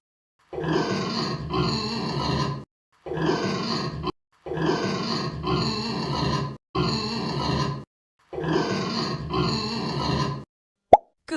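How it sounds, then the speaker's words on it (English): A pig grunts and snorts in five rough, raspy bursts of a second or two each, separated by short pauses, loud and close with nothing else audible. "Pig."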